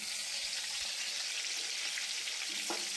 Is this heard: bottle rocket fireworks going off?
no